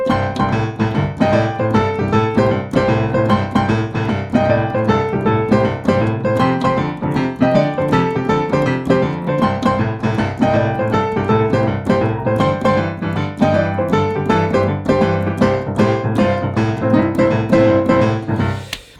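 Solo piano plays a steady, rolling boogie woogie left-hand bass pattern over a 12-bar blues, with chords on top, loud and continuous throughout.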